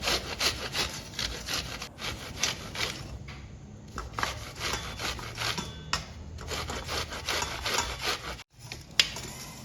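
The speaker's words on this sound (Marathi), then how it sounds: "त्यासाठी आपल्याला ही कणस सर्व किसून घ्यायचे" Fresh corn cobs grated by hand, a repeated rhythmic rasping and scraping of kernels against a grater, close and fairly loud with short pauses between strokes.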